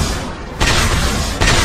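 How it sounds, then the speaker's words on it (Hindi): Loud anime explosions from Naruto fill the sound with a dense roaring rumble, and fresh blasts hit twice in quick succession. "धमाका है।"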